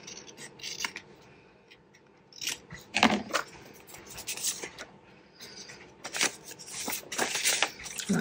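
Scissors snip through folded paper while trimming an envelope notebook, giving a few close, crisp cuts in short bursts separated by quiet handling rustles.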